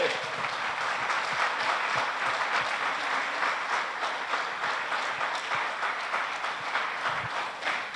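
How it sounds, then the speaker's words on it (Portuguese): Sustained applause from a church congregation during a sermon, dense steady clapping filling the whole stretch with a few louder claps standing out, no voices on top. "Vamos aplaudir."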